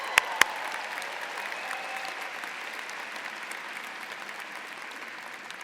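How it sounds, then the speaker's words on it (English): Evening MBA graduates at the Michigan Ross 2018 commencement cheer and clap in a large hall, a steady wash of applause and crowd noise with a couple of sharp claps standing out early. "Can I get a cheer from my evening MBA students?"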